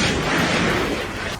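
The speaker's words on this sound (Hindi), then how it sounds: "बम फटने की आवाज से रेस्क्यू ऑपरेशन में जुटे लोग बुरी तरह कांप गए।" A powerful bomb blast strikes near a house roof, a loud, roaring, broadband explosion that fills the space and rumbles on without a break.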